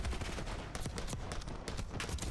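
Call of Duty gunfire: a dense run of rapid shots crackling close and loud, one burst after another with barely a pause, over a busy game mix.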